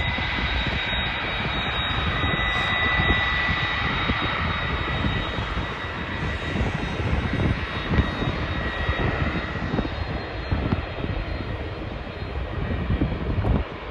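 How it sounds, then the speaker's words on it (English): Turkish Airlines jet airliner bound for Istanbul at Schiphol airport, a steady loud engine roar filling the whole stretch with constant broadband rumble, no talking. "This Turkish Airlines is going to Istanbul, so a pretty long flight."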